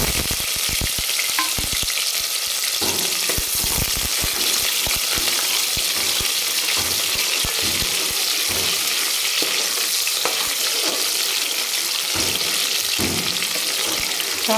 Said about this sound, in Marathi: छान गुलाबी कलरवर आपल्याला परतून घ्यायचा. कंटिन्यू याला हलवत राहायचं